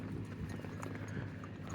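Water buffaloes released for open grazing trot off together, their hooves making a steady, dense clatter at close range with no voices over it.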